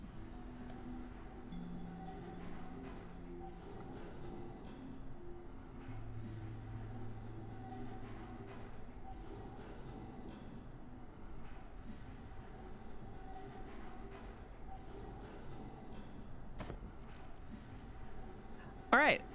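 A tram pulls in within the video game Abiotic Factor, a steady low rumble of rolling rail noise held for the whole stretch at a moderate level, ending with a brief sharp clatter.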